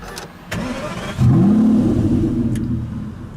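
A car engine is started with a key, a brief crank followed by a catch into a loud, deep rumbling idle that holds steady close by.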